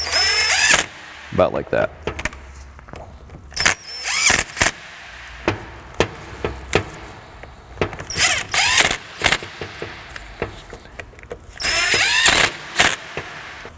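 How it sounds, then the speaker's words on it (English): An impact wrench fires in repeated short bursts while driving fasteners on an old AC compressor in a 1998 Chrysler, rattling close and loud between pauses, with someone talking in the gaps. "And I will use my impact to install them"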